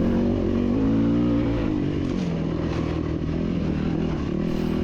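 Motorcycle engine on a rough off-road trail from Bradshaw to Crown King, a loud steady drone with rising and falling revs and rattling clatter as the bike bounces over uneven ground, close and continuous.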